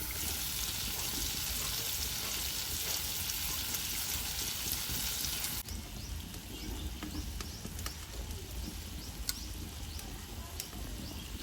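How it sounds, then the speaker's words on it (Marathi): Prawns frying on a low flame over a wood-fired village stove outdoors: a faint, steady crackling sizzle with soft pops, continuous throughout. "आता कमी आगेवरती कोलव्या मस्तपैकी शिजतात"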